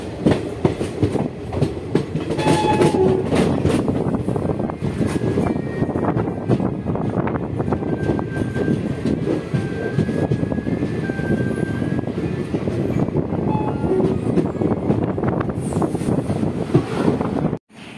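Kakatiya Express rolling into Warangal railway station on the second platform, a steady, loud rumble of wheels with rhythmic clickety-clack and wind buffeting, continuous throughout from onboard.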